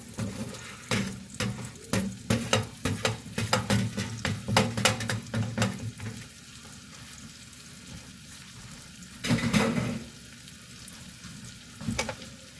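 Mushrooms and bacon for cream of mushroom soup sizzle in a pot as a spoon stirs them, making a run of rhythmic scraping strokes over the hiss. Quieter frying follows, broken by a couple of further stirs.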